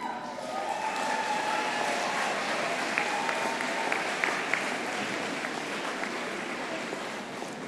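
A crowd at a university commencement ceremony applauds steadily for family and friends, a dense, even wash of clapping that holds at a moderate level from start to finish, with a few sharper claps.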